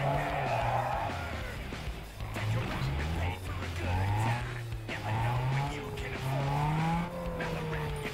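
Engine roar and tyre squeal from Need for Speed Underground 2, with the motor's pitch climbing and dropping through gear changes and skids, steady and loud throughout, mixed under talk.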